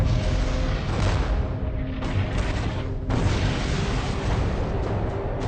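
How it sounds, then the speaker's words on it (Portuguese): A cannon fire sound effect delivers a sustained, loud booming roar, with heavy low rumble and repeated surges of blast noise across the whole stretch. "Ela foi destruída por um disparo de canhão."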